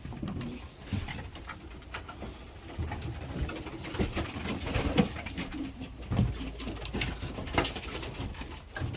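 Racing pigeons coo steadily and close by in a continuous low murmur, with soft rustling and shuffling throughout.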